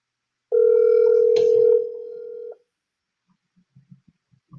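Telephone dial tone heard while redialing a call, a steady loud tone lasting about two seconds, then faint clicks and quiet after it stops.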